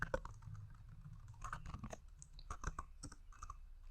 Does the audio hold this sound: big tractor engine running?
no